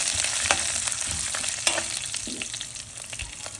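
Ingredients for beetroot chutney frying in oil, a dense close sizzle with scraping stirring strokes and light clicks from the spatula, brief and steady.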